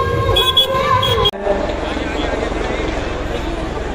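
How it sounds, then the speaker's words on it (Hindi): The Chief Minister's helicopter comes down onto a helipad ground amid a crowd, its rotor and engine roaring loudly and continuously, with a voice and horn-like tones briefly over it at the start. "ये हेलीपैड से सीधे हेलीपैड ग्राउंड में उतर रहे हैं हेलीकॉप्टर मुख्यमंत्री का"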